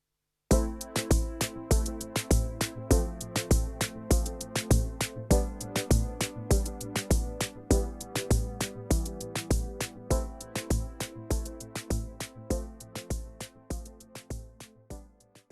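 Programmed drum pattern from a Korg Volca Drum with a melodic Volca FM synth line layered over it, steady and evenly spaced hits with sustained tonal notes, loud and close, no voices.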